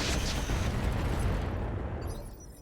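Weapon fire strikes a Gauss emplacement in the mech video game RogueTech: a heavy, rumbling explosive blast that starts loud and slowly decays, with a sharp crack near the beginning.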